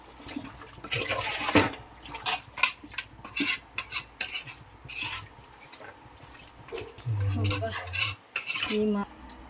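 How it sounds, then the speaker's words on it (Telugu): A spoon works masala into pieces of mutton curry in a metal pot, with repeated loud clanks, scrapes and wet slaps in an uneven rhythm, close up and alone. "ఇప్పుడు మనం వేసిన మసాలంతా మళ్ళీ ఒకసారి కలుపుకోవాలి పీసులకి బాగా అంటుకోవాలి"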